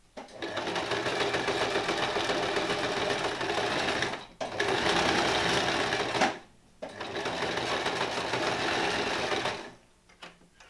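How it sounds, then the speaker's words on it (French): A sewing machine stitches a neckband seam on a top in three long runs of fast, loud, even whirring, each separated by a brief pause, with nobody talking. "alors là, il faut passer la couture"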